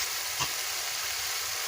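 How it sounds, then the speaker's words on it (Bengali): Spiced masala frying in oil in a pan for a fish curry with poppy seeds, giving a steady, close hiss of sizzling with one brief soft knock and no talking. "মশলাটাকে ভালো করে কষিয়ে নিচ্ছি"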